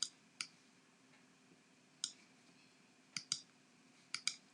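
Sharp mouse clicks, some single and some in quick pairs, spaced irregularly against a quiet room background, from a computer mouse used while grouping parts of a design in ScanNCut cutting-machine software.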